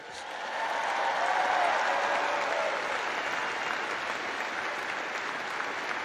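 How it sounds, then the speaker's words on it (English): Sustained applause fills a large graduation ceremony crowd, a dense, steady wash of clapping that swells early and holds at a strong level throughout. "let's give a big round of applause to your incredible parents, grandparents, and family members"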